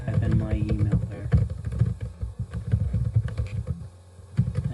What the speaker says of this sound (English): So I'm going to type in my email there